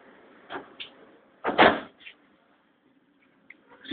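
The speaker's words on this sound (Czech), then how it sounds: "Dveře se zavírají." Prague metro train doors sliding shut on Line C, a short burst of thuds and a clunk after faint knocks, with quiet station ambience before and after.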